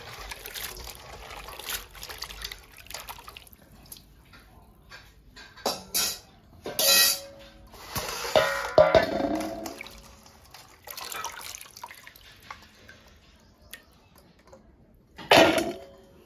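New potatoes and drumstick vegetables are washed in water, with intermittent splashes, trickles and sloshing bursts close by, separated by quieter pauses.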